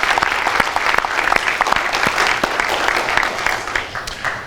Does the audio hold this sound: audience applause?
yes